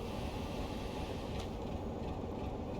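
Locomotive being shunted in the Train Sim World game, a faint, steady low rumble of rail movement with a soft rolling hum and no talking.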